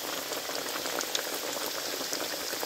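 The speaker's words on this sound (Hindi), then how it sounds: "ऑयल हमारा गर्म है, इसमें लाए रखना इनको डाल देंगे करके, और इनको जो है ना हल्की आंच पे आपने जो है ना कुक करना है" Naan pakoras fry in hot oil over a low flame, Pakistani style, giving a steady, dense crackling sizzle with fine popping throughout and no voices.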